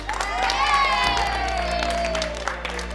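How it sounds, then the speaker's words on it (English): A youth audience at an Advancing Australia event for Project Rockit cheers and applauds for Lucy, with loud whoops and shouting over steady clapping, fading slightly toward the end. "Can we give a huge round of applause to Lucy?"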